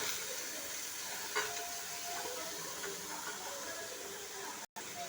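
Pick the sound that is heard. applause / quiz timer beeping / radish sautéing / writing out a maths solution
radish sautéing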